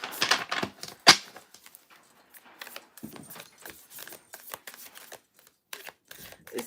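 A Disney Villains tarot deck is shuffled overhand by hand, with soft irregular riffling and slapping card sounds in quick, uneven bursts at close range, no voices.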